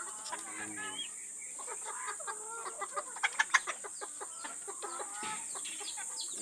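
Chickens cluck busily while being fed rice, with several birds close by. Short, rhythmic clucks build to a cluster of louder calls midway, then carry on softer.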